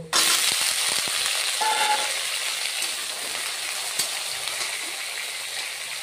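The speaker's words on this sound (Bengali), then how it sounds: "এখন এই যে আলু কেটে রেখে দিয়েছিলাম, আলুটা দিয়ে এখন ভেজে নিব" Steady loud sizzling of cut potatoes frying in a pan with browned onions, a continuous hiss with a few stirring clicks and scrapes, close and constant without talk.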